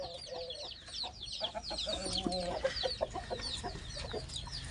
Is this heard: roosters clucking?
yes